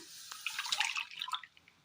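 Water from rinsing a mixer jar splashes into a heated pan of ground coconut paste, a short, close pour lasting about a second and fading quickly, with no talking.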